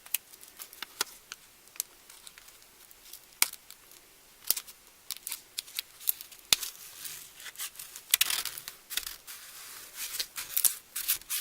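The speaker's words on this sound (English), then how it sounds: "Just peel off the back." An adhesive sheet has its backing peeled away in a series of close, crisp ticks and rustling crackles, irregular and quiet, ending in a louder tearing stretch.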